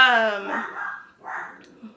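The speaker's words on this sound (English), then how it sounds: "my puppy's barking in the back" A puppy's bark, fairly close, starts the clip as a harmonic yelp, followed a moment later by a second shorter bark.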